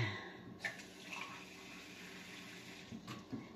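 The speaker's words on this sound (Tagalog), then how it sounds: "At lalagyan po natin siya ng tubig." Water poured from a glass into a pot holding a few pieces of carrot for pumpkin cream soup, a steady low splashing and trickling wash running throughout with a couple of brief louder surges.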